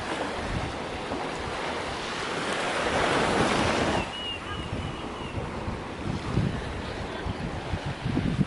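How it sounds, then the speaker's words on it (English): Ocean surf rolls onto a beach in Jamaica after rain, a steady loud wash of breaking waves with gusty wind noise, a big surge cresting early and then settling into a rougher churn. "I love the beach, the sound of the waves, the sound of the water"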